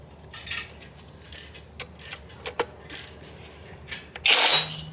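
Ratcheting mechanical clicks in short bursts, then a loud whirring burst from a power tool loosening bolts close by at the end, while removing an AMC 360 engine from a car.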